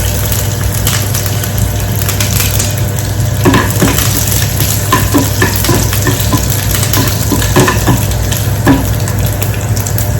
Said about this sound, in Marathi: लसूण चांगला ब्राऊन करून घ्यायचा आहे.